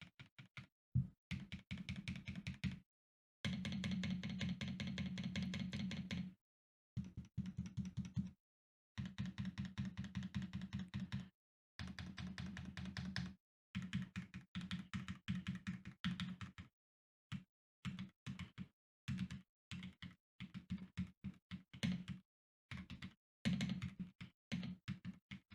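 Key presses on a HiGround x Yu-Gi-Oh mechanical keyboard, a close, quiet clatter of taps in bursts of varying length with short pauses between runs, no voices.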